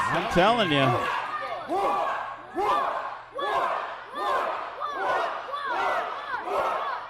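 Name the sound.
wrestling arena crowd cheering loudly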